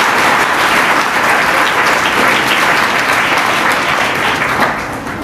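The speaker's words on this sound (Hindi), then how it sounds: "तालियां बजाएं, वे बहुत अच्छे विचार हैं।" Audience at a school admission festival and prize distribution ceremony applauding loudly and steadily, a dense wash of many hands clapping close by, fading slightly at the very end.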